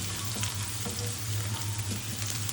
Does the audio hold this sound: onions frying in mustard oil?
yes